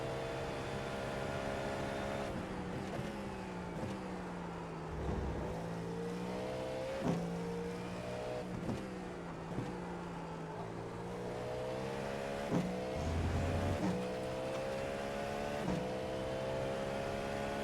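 Cadillac V-Series GTP prototype race car running laps at Sebring in iRacing, its engine droning steadily throughout with repeated rising and falling revs through gear changes and corners, loud and continuous with no talk.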